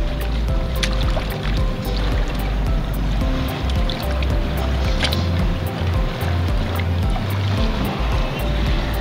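Cleaned file fish washed in water, steady close splashing and sloshing with occasional clinks, continuous and fairly loud throughout.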